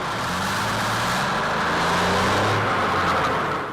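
A 30-ton truck drives past with a deep engine drone under a broad road roar that swells steadily and then eases slightly as it passes, loud and close.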